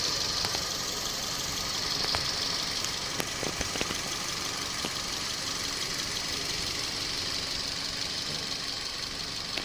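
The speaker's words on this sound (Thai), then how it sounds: "เสียงเงียบนะครับ เครื่องยนต์ทำงานปกติ" A 2007 Toyota Vios engine idles steadily with the air conditioning running, a low, even hum and faint mechanical ticking, a constant drone with no voices.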